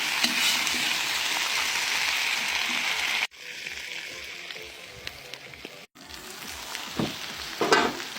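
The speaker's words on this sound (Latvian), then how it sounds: "i šašliks arī sāk cepties" Shashlik meat frying in a kazan, a steady loud sizzle with crackling, briefly cut off twice as if the lid or mic pauses, then resuming with stirring clatter near the end.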